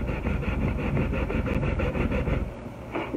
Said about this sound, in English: I'm going to sand on my cross